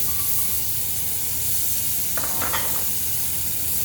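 Mushrooms and onion frying in butter with a touch of oil, giving a continuous loud sizzle and hiss, with a brief clatter of a utensil near the end.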